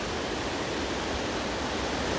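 A small stream runs down sloping rock near Ezharakund Waterfalls in the Paithalmala valley, giving a steady, broadband rushing wash that stays even and close throughout, with no voices.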